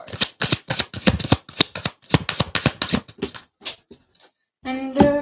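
A deck of tarot cards is shuffled by hand in rapid, crisp riffling bursts, close and loud, pausing briefly before a final flurry of card sounds.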